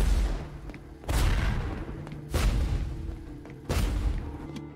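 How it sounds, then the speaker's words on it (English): Three rigged explosions go off on a movie set in an animated Legend of Korra episode. Each is a loud, close boom followed by a rumbling decay, spaced about a second apart. "How did you rig those explosions to go off like that?"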